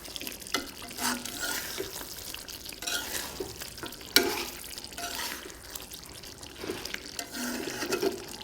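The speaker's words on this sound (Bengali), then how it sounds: "ঢাকনা তুলে এবার আমরা মাংসটাকে ভালো করে কষাবো" Country chicken meat being stir-fried in a pan with oil, a steady wet scraping and stirring with soft sizzle throughout, occasional sharper clinks of the utensil against the pan, no voices.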